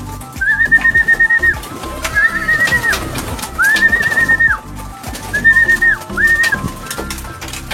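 Pigeons in a loft give repeated cooing calls in several bursts, close and fairly loud, with flapping and shuffling around them and no talk.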